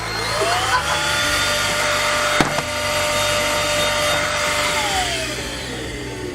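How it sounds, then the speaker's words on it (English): A Dyson vacuum cleaner running steadily with a loud, continuous broadband roar and one brief knock partway through, with no voices. "thank Dyson for sending me this vacuum"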